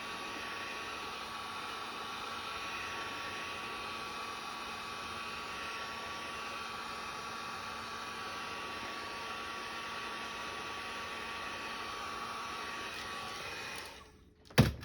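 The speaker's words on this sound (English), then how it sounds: "Heat gun gets very hot, be careful." A heat gun warming adhesive labels on a golf club blows with a steady, even roar of hot air for many seconds, then cuts off with a short clunk at the end.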